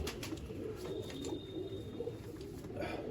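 Sialkoti pigeons coo softly in a loft, low murmuring calls over a faint steady background, with a few light chirps and movements.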